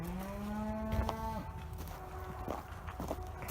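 Cattle mooing in a corral during vaccination, a long low bellow followed by a few shorter calls amid shuffling hooves and farmyard noise, close and clear with no talk.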